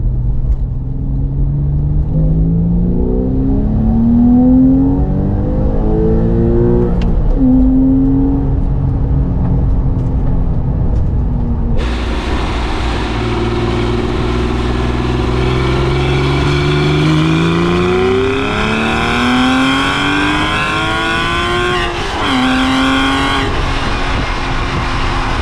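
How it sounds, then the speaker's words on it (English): A loud, raw straight-piped Porsche 996 C4S engine with catalytic converters deleted and an X-pipe revs hard, pitch climbing sharply, dropping at each shift, then climbing again, close and unbroken. "Gonna do a quick pull in second gear."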